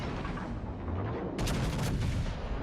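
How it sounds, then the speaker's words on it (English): Heavy naval gunfire from the Yamato battleship in World of Warships: Legends, a dense rumbling barrage of booms with a sharp burst of blasts midway, loud and continuous with no talk. "Our Yamato is also opening fire on that Yamato."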